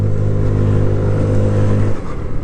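A 2025 MGB Trieste 125 classic-styled scooter accelerates up close, its engine holding a steady buzzing drone that rises, then drops away abruptly near the end as the throttle eases.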